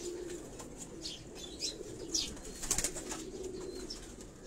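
Pigeons kept in a small rooftop breeding setup coo softly and repeatedly, with occasional chirps and faint wing flutters, fairly distant and low in level.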